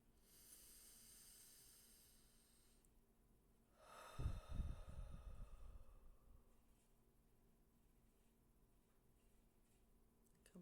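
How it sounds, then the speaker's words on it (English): A single deep breath is drawn in and let out, a soft airy inhale followed by a louder, rough exhale through the nose and mouth, then quiet room tone with faint ticking. "Take a big breath in, hold it, and let it out."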